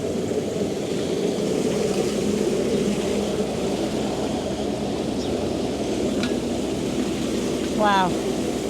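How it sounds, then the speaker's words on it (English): A narrowboat engine runs at full throttle in reverse inside a canal lock, a steady broad churning roar mixed with rushing water, with a voice speaking briefly over it. "You can hear Martin has got the boat in reverse"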